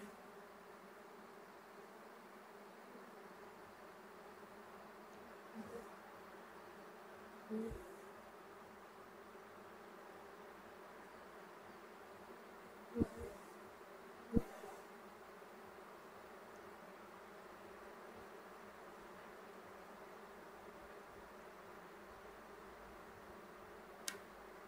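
Honey bees buzz around hive frames during a hive inspection, a faint continuous drone with occasional soft knocks and clicks as frames are handled.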